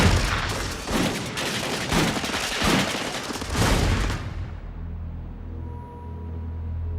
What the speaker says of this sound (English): The state police have been alerted and open fire.